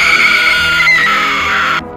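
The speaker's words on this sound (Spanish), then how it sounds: "Pero de repente oyes un grito." A sudden, piercing scream from near a basement: one sustained high shriek held loud and steady for almost two seconds, then cut off abruptly into silence.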